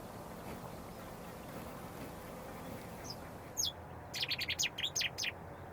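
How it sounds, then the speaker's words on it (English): Migratory birds on Cabrera island in the Mediterranean let out a quick burst of high, clustered chirps late on, over a steady outdoor background hum. "have identified more than 150 species of birds that make the island their resting and feeding place during their migratory journeys"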